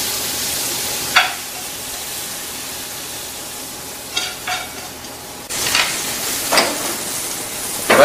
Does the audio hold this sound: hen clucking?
no